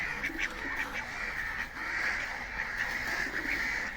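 Ducks quacking at feeding time, a busy overlapping chorus of nasal honks and quacks, close and continuous, with faint goose-like calls mixed in.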